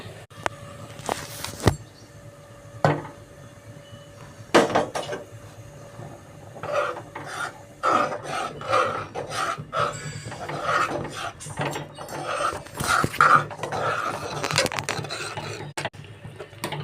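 Irregular scraping and knocking of a spoon working thick black gram flour batter in a pot, uneven strokes with clunks against the sides, continuing steadily without talk.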